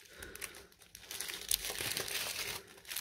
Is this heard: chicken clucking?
no